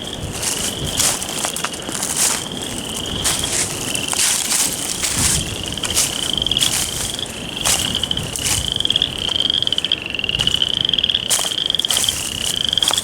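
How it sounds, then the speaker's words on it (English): Frogs croak loudly and steadily in a swamp, a dense chorus of repeated calls layered over a constant high insect-like trill, close and continuous. "Frogs are going crazy."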